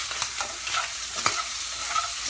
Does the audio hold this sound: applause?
no